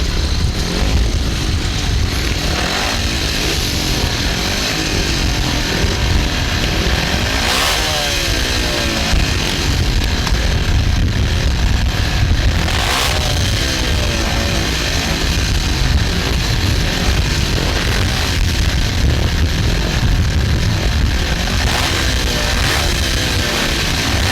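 Grasstrack racing motorcycles roar away together at the start of a race at the 2007 Berks Bonanza, a dense, loud engine snarl that swells and surges as the pack accelerates, continuous throughout with no talk.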